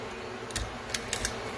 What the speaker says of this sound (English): I just take my razor knife and run it right along the edge